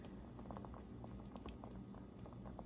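Meat simmers over low heat in a pan, a very faint, close bubbling and light patter that ticks steadily without a break.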